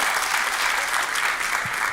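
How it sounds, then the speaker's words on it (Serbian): A stand-up comedy crowd applauds, a dense, even burst of clapping lasting a couple of seconds, with no voice over it. "Možete aplauz slobodno, da."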